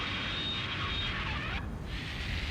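A drone aircraft in the Ace Combat 7 flight game roars steadily and loudly throughout, a continuous broad engine rumble with a brief dip in its upper hiss near the end.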